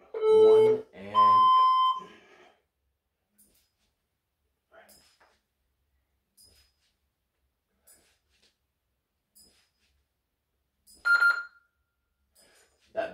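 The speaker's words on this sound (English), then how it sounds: "that beep will go halfway." Interval timer for a home bodyweight and kettlebell workout sounding two loud electronic beeps at the start, then a lone beep near the end after a long quiet stretch with only faint background noise.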